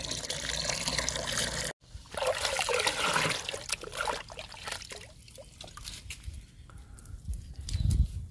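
Aloe vera liquid trickles and splashes as it is poured onto flowering plants, a jasmine among them, in a steady stream broken by one brief pause, with no one speaking.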